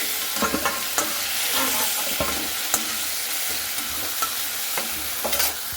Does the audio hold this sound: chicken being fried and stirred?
yes